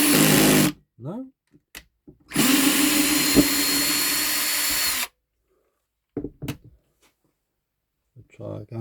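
Power drill driving a screw into waxed wood at a raised torque setting, two loud sustained whirring bursts, the second lasting several seconds, with brief speech and clicks between them.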